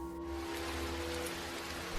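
Rain sound effect used beneath a spoken ghost-story narration, a soft, steady hiss of falling rain with a faint low hum, quiet and continuous with no talking.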